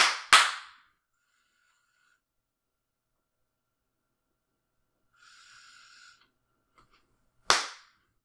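A sharp hand clap meant to trigger a robot opens the clip as a close double crack, then a faint electronic beep sounds, and another single loud clap follows after a quiet stretch.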